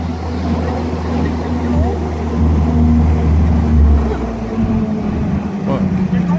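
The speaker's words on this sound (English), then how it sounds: "we're going to put her back in the Jeep and see how she does. All right, take her for a test spin." Engine of a Willys GPW Jeep running on a test drive after a radiator neck leak repair, a steady low rumble that swells slightly, with people talking over it.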